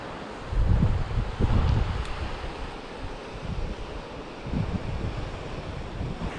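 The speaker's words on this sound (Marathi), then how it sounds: "हा जो मागे जो समुद्र दिसतो आहे हा कातवण कुणकेश्वरचा समुद्र आहे" Sea waves roll in at Katvan Kunkeshwar beach during a seaside fishing outing, a broad washing surf with wind buffeting the microphone and swells rising and falling.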